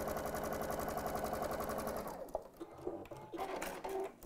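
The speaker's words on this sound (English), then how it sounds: "May as well just sew all the way down there again" A sewing machine stitches a seam with a quiet, steady rhythmic whirr for about two seconds, then stops, leaving soft clicks and fabric handling noises.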